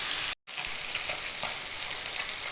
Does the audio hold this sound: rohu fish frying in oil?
yes